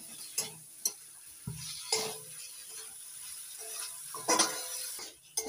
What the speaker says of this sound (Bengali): আলুগুলো মশলার সঙ্গে কষিয়ে নেব।